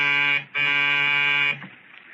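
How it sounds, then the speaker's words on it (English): Apartment door buzzer in an old 1945 radio drama, two loud harsh electric buzzes close by, a short one then a longer one-second one, separated by a brief gap and followed by quiet. "the buzzer to the Smiths' apartment hummed like an angry bee"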